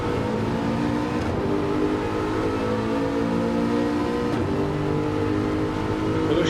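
Aston Martin GT4 race car in a sim racing game, heard on board: a steady, loud engine drone with layered harmonics and brief gear shifts, running without pause.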